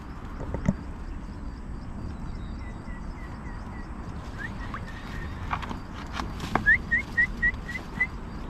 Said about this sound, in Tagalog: Parang dumalagang manok yata yun.